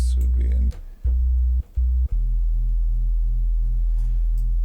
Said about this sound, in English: sine wave that is changing its shape, and it's frequency dependent